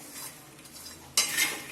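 A spoon scrapes and clinks against a pan as roasted dry fruits are stirred with the gas turned off. The stirring is quiet at first, then a louder, brisk rattle of scraping follows.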